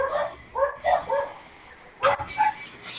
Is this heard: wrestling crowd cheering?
no